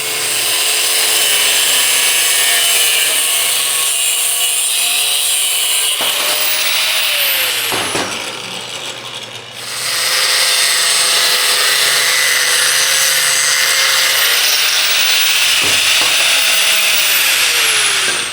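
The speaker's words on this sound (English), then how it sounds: "So we're gonna cut these guys off, and then we're gonna use these for the new system." A power tool cuts the flanges off a stock Mercedes GLE exhaust with a turbo V6, a loud continuous grinding whine that pauses briefly midway and then resumes.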